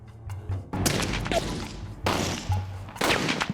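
A sniper rifle shot fired into a binary explosive catalyst during an outdoor test, heard as a few loud, sharp booming blasts with broad rumbling decay, separated by short gaps.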